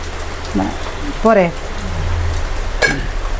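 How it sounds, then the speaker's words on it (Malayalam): Heavy rain pours in a steady, dense hiss close at hand, while a few short bursts of speech rise briefly over it. "നല്ല മഴ തന്നെ പെയ്യണത്"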